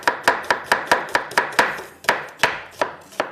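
Onions are sliced with a knife on a cutting board while a mutton masala gravy is prepared; about a dozen sharp, close chops land at a steady quick rhythm that slows slightly toward the end, with no talk.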